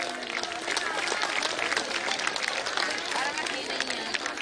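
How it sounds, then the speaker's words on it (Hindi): A crowd at a political rally applauds the speaker, sustained dense clapping mixed with crowd murmur, loud and continuous throughout. "माननीय मोदी जी के प्रति संवेदना जता करके एक बार पुनः उनका अभिनंदन करना चाहिए तालियों से।"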